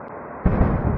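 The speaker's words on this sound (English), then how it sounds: "Another explosion." A drone strike explosion sets off a sudden loud blast about midway, followed by a sustained broad rumble and crackle that fills the rest of the moment over steady background noise.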